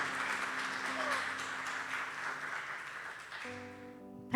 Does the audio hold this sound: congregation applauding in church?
yes